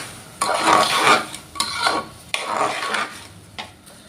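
Washed rice stirred and fried in a pan for mutton biryani, with several separate bursts of scraping and rustling as a spoon pushes the grains around the metal, close and fairly loud.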